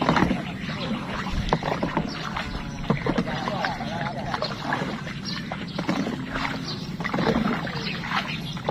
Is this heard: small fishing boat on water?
yes